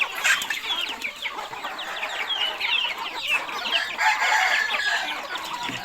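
A flock of chickens clucking continuously, with overlapping chirpy calls and an occasional crow, fairly close and steady throughout.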